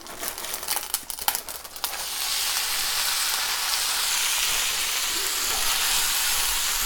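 Spaetzle frying in hot butter and oil, a few crinkly stirring clatters at first, then a loud, steady sizzle that holds without a break, close up with no talking.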